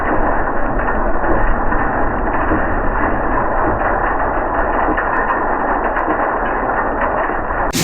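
A modified Clipper No. 2B seed cleaner fanning mill runs with its counterbalance moving, giving a steady, loud, even mechanical drone and rumble close by with no pauses and no voices.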